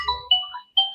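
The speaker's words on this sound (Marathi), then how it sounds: "हा तेच फोन आला" A mobile phone ringtone plays a short, bright electronic melody of quick tonal notes, clear and nearby with no talking over it.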